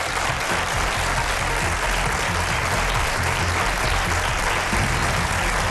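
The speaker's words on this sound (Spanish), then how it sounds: "¡Un aplauso para ellos!" Studio audience applause on a Spanish television comedy show, a dense, loud, continuous burst of clapping that holds steady throughout with no talking.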